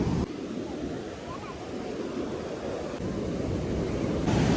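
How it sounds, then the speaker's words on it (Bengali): Big sea waves at Puri beach roar as a continuous broad wash of surf, fairly loud and steady, with wind buffeting the microphone. "কি সুন্দর লাগছে, আর বড় বড় ঢেউ পুরো।"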